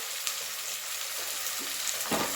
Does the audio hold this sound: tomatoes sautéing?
yes